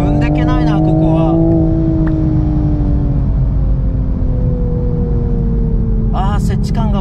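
A Toyota GR Supra with manual transmission revs on a racing circuit, its engine a loud, smooth, sustained drone whose pitch slowly falls, with someone speaking briefly at the start and end.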